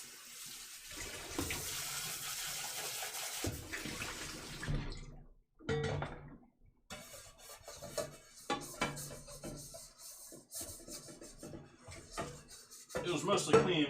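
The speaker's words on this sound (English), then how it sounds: "can start by cleaning this pan out." Tap water runs and splashes while a pan is washed out in a sink, the flow stopping and starting with clatter and rubbing, close by, and a voice speaks intermittently over it.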